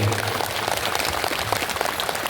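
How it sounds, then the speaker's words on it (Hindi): An audience at a Bhagwat Katha religious gathering claps together in dense, steady applause that fills the whole stretch, fairly loud and even throughout. "ताली बजाकर हृदय से स्वागत करेंगे"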